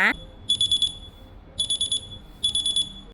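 A phone rings after being triggered by the find-phone feature on a Jeep Z02 Pro smartwatch, giving three short bursts of rapid, pulsing electronic alarm tones separated by pauses, heard close and clear over quiet room noise.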